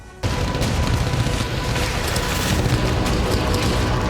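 A heavy explosion from a Chinese military blast in the South China Sea starts abruptly and rolls on as a dense, loud rumble with crackling debris and no voices for several seconds.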